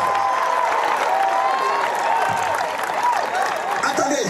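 A church congregation at a prophetic worship service applauds and cheers to acclaim Jesus, with continuous dense clapping and crowd voices, loud and sustained throughout.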